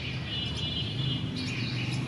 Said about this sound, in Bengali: আমার এখন এখানে কি কি পাখি আছে সেই পাখিগুলো আপনাদেরকে দেখাই